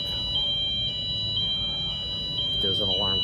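A high, steady electronic alarm beeps on and on in a hotel room in New Orleans, loud and continuous, with a person speaking briefly near the end.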